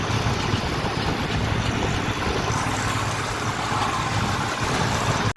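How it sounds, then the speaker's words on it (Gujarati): A farm tractor idles steadily nearby, a continuous low diesel rumble with an even throb that holds level throughout, with no voices over it. "તો આપણો જો ટ્રેક્ટર આવી ગયું"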